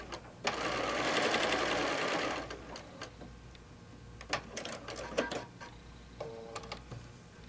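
A sewing machine runs steadily for about two seconds, stitching a quarter-inch seam on a crazy patch quilt block, then stops, leaving faint handling clicks and taps at a quiet level.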